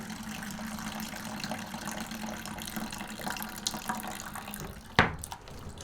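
Grape juice pouring steadily from a cold fruit press into a bucket, a continuous close trickle of running liquid, ending with a sharp knock just before the flow trails off.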